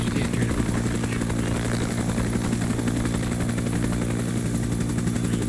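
Helicopter in the Arma 3 video game, a steady close rotor drone and engine roar running continuously under faint voice chat.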